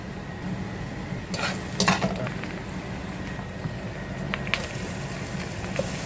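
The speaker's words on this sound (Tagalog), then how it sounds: "Painit ko itong butter na ito." Butter heats and sizzles in a pan for garlic butter shrimp, a steady close crackle throughout with a few scraping stirs and light clinks of a utensil against the pan.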